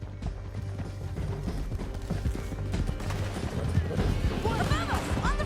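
Horses galloping across a canyon in Red Dead Redemption 2, with a dense rhythmic clatter of hooves under steady mechanical game ambience and layered riding noise that builds slightly toward the end.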